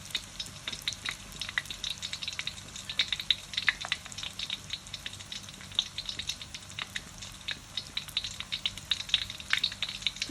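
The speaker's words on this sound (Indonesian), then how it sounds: "Kemudian kalau minyak sudah dirasa panas, kita masukkan pangsit satu persatu." Wontons fry in hot oil with a steady, close sizzle and dense crackling pops throughout, with no talking.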